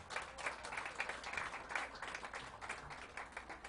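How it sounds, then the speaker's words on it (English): An event crowd at the Day of Hope & Healing in Buffalo gives a round of applause, a soft, steady patter of many hands heard from a distance. "Let's give them a round of applause."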